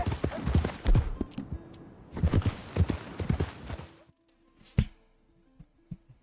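Horses running in Red Dead Redemption 2: steady galloping hoofbeats, fairly close and busy, with tack rattling, dropping to a few scattered clops and thuds near the end.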